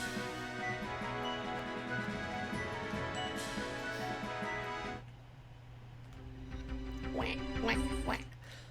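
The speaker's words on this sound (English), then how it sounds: "I don't know why the duck is the default no sound." Duck quack used as the default 'no' sound effect in the Suikoden video game, heard near the end as a few short nasal quacks over the game's background music.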